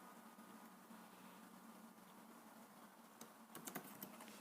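Quiet computer keyboard typing of code, a faint low hum at first, then a short cluster of soft, quick key clicks near the end.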